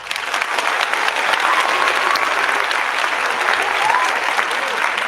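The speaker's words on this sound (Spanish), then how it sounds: "lo único que puedo decirte es que te has ganado un fuerte aplauso" Strong, steady audience applause after a presentation fills the whole stretch, a dense wash of clapping with no break.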